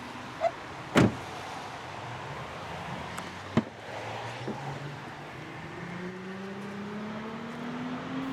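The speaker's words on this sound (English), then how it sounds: "The rear windows are automatic up and down" The rear power window motor of a 2019 Volvo XC40 whirs steadily as the glass runs up and down, with a few sharp clicks and thumps at the start, all fairly close.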